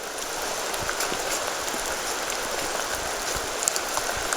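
Steady rain falls outdoors near the North Fork Skokomish River, a dense and even hiss of drops with a few louder close patters, and no voices.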